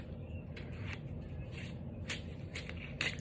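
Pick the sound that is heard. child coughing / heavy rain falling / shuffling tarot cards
shuffling tarot cards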